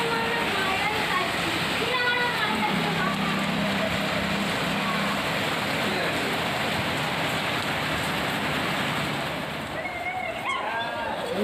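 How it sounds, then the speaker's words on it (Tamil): Heavy evening rain pours down in a dense, steady roar, wind stirring neem trees, with a few faint bird calls through the wash and a voice speaking briefly under it. "சரியான மழை"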